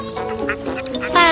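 A duck in a children's cartoon, being offered bread, gives a run of close, loud quacks with several short calls in quick succession, ending in a stronger burst, over light background music.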